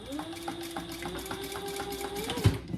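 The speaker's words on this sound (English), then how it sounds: "I'm going to put a stitch as close as I can to my D-ring." A sewing machine runs in a steady, close hum with rapid rhythmic needle clicks while stitching a handbag strap near its D-ring, with a slight rise in pitch toward the end and a soft thump.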